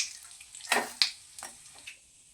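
Whole spices, cracked cardamom pods and mace, are dropped into hot oil and give a few short, quiet sizzling hisses and crackles, close up, with no one talking.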